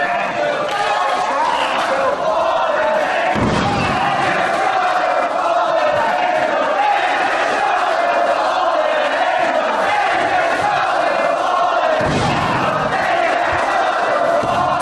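A vocal wrestling crowd at an AJ Styles vs Chris Daniels match roars, chants and shouts continuously at high volume, with a commentator talking over the noise.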